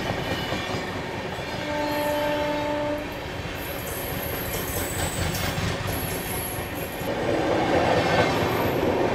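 From aboard the Magadh Express, another train slowly overtakes alongside with steady rumbling and clattering wheels, a brief horn blast early on and high wheel squeals, growing louder toward the end.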